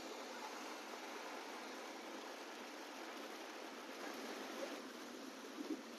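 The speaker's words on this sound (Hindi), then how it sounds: "बातें करते करते बादल आकर बहुत तेज बारिश आ चुकी है" Heavy rain pours down at nightfall in steady, dense, broadband hiss, a constant wash of falling water heard alone with no voices.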